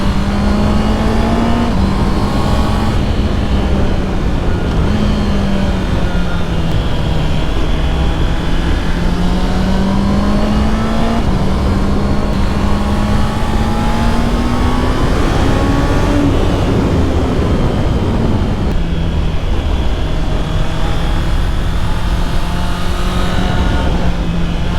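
An inline four-cylinder car engine revs steadily and loudly, its pitch rising and falling smoothly over a continuous rough roar, heard close up without talk.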